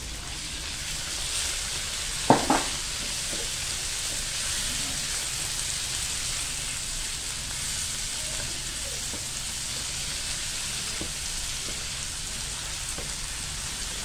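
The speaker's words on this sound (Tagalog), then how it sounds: "Medyo i-fry lang po natin ng konti ang ating ground beef." Ground beef sizzles in a pan with a steady, soft, rain-like crackle, broken early by a couple of sharp utensil clinks and a few faint taps later, with no talking.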